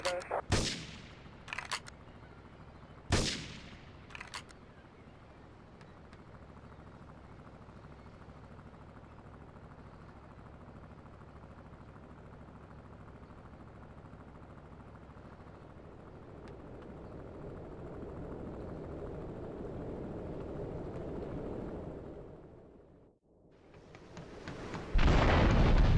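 Gunfire and explosions in the video game GTA 3 around Portland Harbor: a few sharp loud bangs at the start, then a long low rumbling drone that swells before a loud burst at the end.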